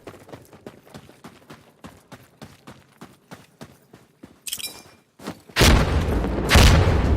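Grenade explosions in a first-person shooter video game: a run of quick rhythmic footstep-like taps gives way to one sharp blast, then two loud, roaring, sustained detonations close up.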